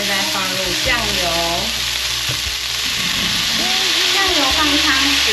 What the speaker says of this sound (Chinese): 放入高丽菜，继续翻炒， 炒到食材混合均匀